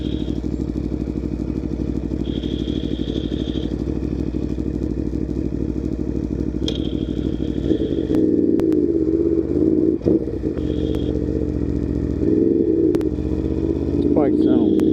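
A 2018 Aprilia Tuono V4 1100 Factory motorcycle engine running loud and close, a steady rumbling idle that swells into deeper revving surges partway through, with a steady whine above the engine.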